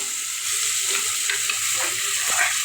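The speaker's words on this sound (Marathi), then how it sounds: "आता हा कुंडा कुकरमध्ये टाकवत आहोत आणि मी व्यवस्थित मिक्स करून घेत आहोत" Sautéed vegetables in a pot set inside a pressure cooker are stirred over a steady sizzle, a spoon scraping and tapping in a few brisk strokes close by.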